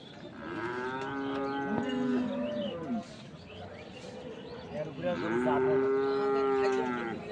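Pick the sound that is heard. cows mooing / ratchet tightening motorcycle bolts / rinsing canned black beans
cows mooing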